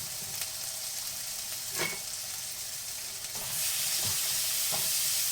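Chopped tomatoes with a quarter spoon of turmeric powder sizzle and fry steadily in a pan, with a few stirring scrapes and a louder burst of frying toward the end.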